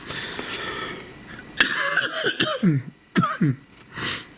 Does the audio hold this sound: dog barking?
no